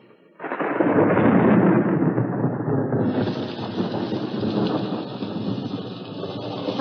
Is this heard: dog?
no